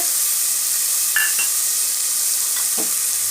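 Onions, green chilli, curry leaves and garlic sautéing in hot oil for dal, a loud continuous sizzle with a few brief scrapes of a spoon stirring through the pan.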